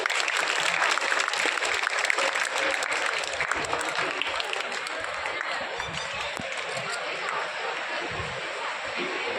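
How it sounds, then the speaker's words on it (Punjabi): Audience applause at a school felicitation ceremony in Rampur village near Doraha, a dense, steady patter of many hands clapping that fills the room at an even level throughout, with no lull. "ਅਜੀ ਤਾੜੀਆਂ ਲਗਾ ਦਿਓ"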